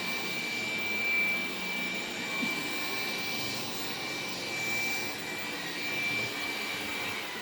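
A Dreame F9 robot vacuum mop runs in turbo mode on carpet, giving a steady loud whirring suction roar with a thin high whine that holds without a break, close and with no voices.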